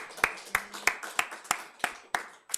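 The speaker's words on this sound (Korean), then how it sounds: "하나님께 영광의 박수 한번 합시다" A church congregation at a Sunday morning service claps in a steady rhythm, about eight evenly spaced, fairly faint claps with no talking over them.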